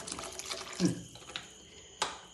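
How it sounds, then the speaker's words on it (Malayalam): Faint vinegar pours and splashes briefly into a beetroot and dates pickle, with small drips and a light clink near the end, quiet throughout. "ഇതിലേക്ക് ഞാൻ വിനാഗിരി കുറച്ച് ഒഴിക്കുന്നുണ്ട്"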